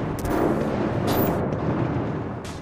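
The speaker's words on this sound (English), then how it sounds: "Were those gunshots?" A dense, roaring burst of gunfire and explosive blasts in the video game Hitman: Absolution, loud and continuous for a few seconds with sharp crackling bursts on top.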